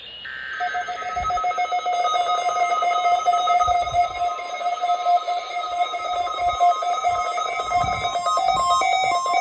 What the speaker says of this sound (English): The preceding signal was a test of the public warning alarm